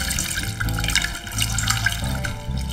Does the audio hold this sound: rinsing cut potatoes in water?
yes